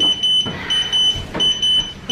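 Electronic workout interval timer beeping during a home HIIT cardio and legs session, with steady high-pitched tones repeating in short bursts over background room noise and movement.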